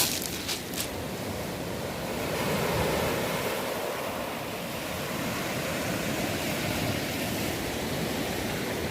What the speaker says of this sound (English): I love the sound of the sea crashing over these heavier stones